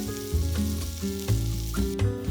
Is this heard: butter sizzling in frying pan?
yes